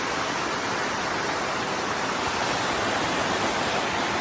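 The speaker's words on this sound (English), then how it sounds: "When I look up, I am getting misted with rain." Water spraying onto a canvas wall tent during a rain test, a steady, even hiss of fine spray close by that continues unbroken with no voices.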